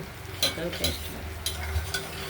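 Cumin seeds, bay leaf and dried chilli fry in hot oil as a tempering for moong dal, with a steady close sizzle broken by a few sharp stirring scrapes of a utensil against the pan; no one speaks.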